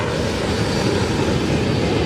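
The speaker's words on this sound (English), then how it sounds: "A passenger jet filled with French families is plunging towards the Red Sea." A passenger jet packed with families plunges towards the Red Sea, its engines a loud, steady, broadband roar with no voices.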